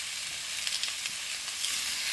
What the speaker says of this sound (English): that sizzle is a good sign